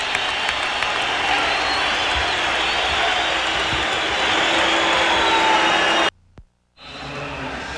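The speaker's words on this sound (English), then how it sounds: "This crowd at McNichols loving this" A large crowd at a 1994 NBA playoff game between the Denver Nuggets and Seattle SuperSonics at McNichols Arena roars in a loud, sustained wash that cuts out abruptly near the end before returning.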